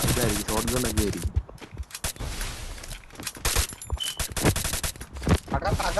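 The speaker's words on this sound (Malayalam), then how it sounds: "ഇതായിരിക്കും ഷോട്ട് ഗൺ ഒക്കെ ആയിരിക്കും." Shotgun blasts in the battle royale game Free Fire, sharp repeated shots scattered through busy game audio, with a voice talking over parts of it.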